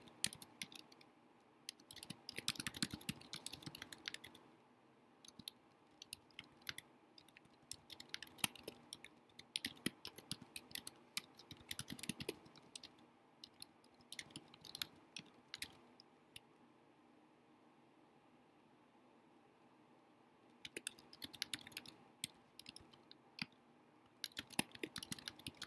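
Computer keyboard typing while entering instructions into a Google integration in Canvas, a dense run of quick, close key clicks in irregular bursts with short pauses, and no talking.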